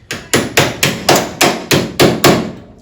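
Hammer on the cowl panel of a 1966 Ford Mustang coupe being fitted: eight sharp, close metallic blows in a steady, even rhythm, each ringing briefly, with no talking.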